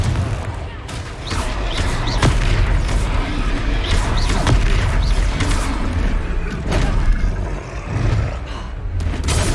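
Blasting spell explosions and combat bursts in the Hogwarts Legacy video game, a dense run of loud booms and impacts with a voice shouting over the fight.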